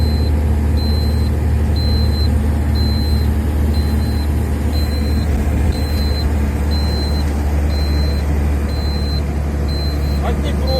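A freshly repaired vehicle engine idles with a low, even rumble, joined throughout by a regular series of faint high-pitched beeps.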